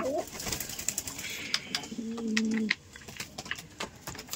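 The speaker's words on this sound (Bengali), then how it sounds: "এই যে পানি খাচ্ছে কবুতরগুলো, পানি খেতে দিলাম" Domestic pigeons drinking water give a soft cooing call midway through, with light clicks and pecking sounds around it, close by and fairly quiet.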